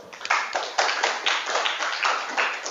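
A classroom group claps in a quick burst of distinct, uneven claps at close range, loud and alone.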